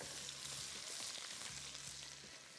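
Garlic and chicken frying in a karahi for Balochi karahi, a steady soft sizzle throughout, faint and continuous with no talk.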